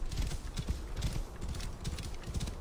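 Rhythmic clip-clop of horse hooves trotting at a steady pace in the video game Assassin's Creed Origins, fairly soft and continuous throughout.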